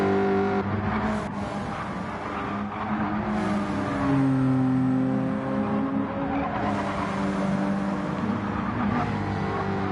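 A touring race car in Gran Turismo 7 on the Laguna Seca circuit, sliding through sand, its engine droning and shifting pitch continuously near and loud throughout, with rising and falling revs and no talk.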